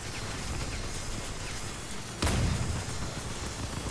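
A sudden booming blast breaks through a steady rumbling background in the vehicle combat game Crossout, with faint distant pops around it.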